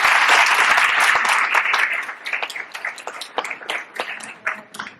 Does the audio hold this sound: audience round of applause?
yes